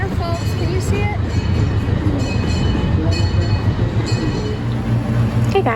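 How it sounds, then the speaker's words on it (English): A train at the OC Zoo in Irvine Regional Park rumbles past with a steady low roar and clattering, occasional higher squeals and tones over the continuous noise. "The train's there, folks."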